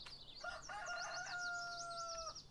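Rooster crowing alongside clucking chickens on a chicken farm in Farming Simulator 19: a long drawn-out cock-a-doodle-doo with repeated chirpy clucks running through it, heard clearly and close over a quiet hiss.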